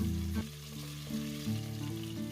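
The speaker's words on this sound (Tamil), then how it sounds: "சிக்கனும் நல்லா ஃப்ரை ஆகி வந்ததும் இதை அப்படியே வேறே எடுக்கிறேன்." Chicken frying in hot oil gives a steady, close sizzle throughout, with sustained tonal background music playing over it.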